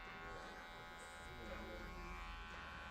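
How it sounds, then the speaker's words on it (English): Electric hair clippers cut over a comb during a men's undercut quiff haircut, giving a steady close-up buzz throughout with a voice speaking underneath. "So just going to clipper over comb, taking the weight out, keeping the comb nice and square to the rest of the head."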